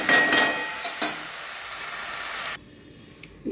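Okra frying in a pan, a bright sizzle with a couple of stirring scrapes early on, then the sound drops sharply to a quieter hiss as the heat is lowered.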